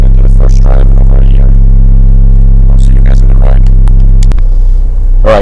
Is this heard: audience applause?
no